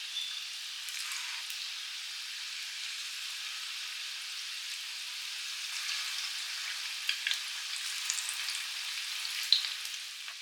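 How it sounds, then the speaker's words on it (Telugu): Fish pieces for spicy Fish 65 frying in hot oil, a steady fine crackling sizzle like light rain, close and even throughout with a few sharper pops near the end. "ఇప్పుడు మనం ఇందులో ఫిష్ ముక్కలు ఒక్కొక్కటిగా ఇందులో యాడ్ చేసుకుందాం."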